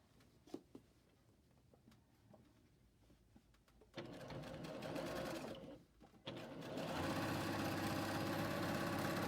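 A serger stitches a side seam on a garment, running steadily for about two seconds, pausing briefly, then starting again louder with a dense, rapid mechanical whir that continues to the end.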